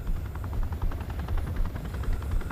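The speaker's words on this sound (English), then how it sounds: "You and your terrifying Soviet Red Star helicopter." Rotor chop from a Soviet Red Star helicopter in the post-apocalyptic MMO game Stalcraft, a steady rapid thumping over a low engine rumble, loud and close throughout with no talk.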